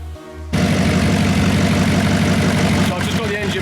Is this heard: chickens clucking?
no